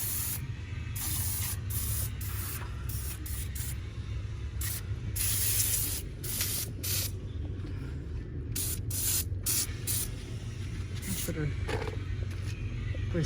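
Engine degreaser hisses in repeated bursts from a spray can onto a Mercedes C300 engine, the short sprays starting and stopping over a low background rumble, with a person talking in between.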